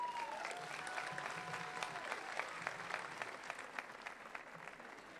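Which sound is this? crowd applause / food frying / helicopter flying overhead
crowd applause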